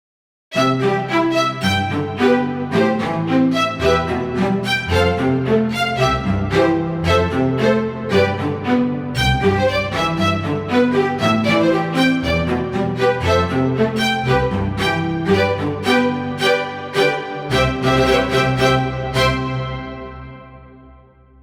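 A keyboard plays a quick melody of short, clipped staccato notes in a steady rhythm, each note cut off sharply, before fading out at the end.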